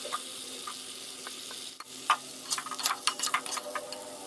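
Fried vegetables tipped into a sizzling paste of ginger and black mustard seeds and stirred, with soft crackle at first, then a burst of scraping clicks and bright sizzles from the pan, close and alone.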